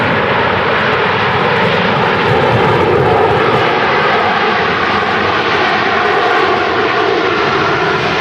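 Sun Express Airbus A320 landing at Manchester Airport in storm crosswinds, a steady, loud broadband engine roar holding evenly throughout with wind rush, no voices.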